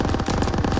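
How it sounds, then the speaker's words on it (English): Rapid, loud, close machine gun burst in the World War II shooter Call of Duty: WWII, a dense rattle of shots with echo. "MG just hit Dagger!"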